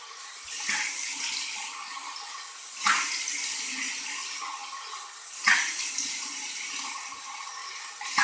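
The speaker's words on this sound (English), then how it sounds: "I'm going to go to my cold water rinse." Cold tap water running while someone rinses their face after a shave, a steady broadband splashing stream with three brief louder splashes spaced a few seconds apart, close and continuous with no talking.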